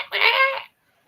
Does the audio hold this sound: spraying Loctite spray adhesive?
no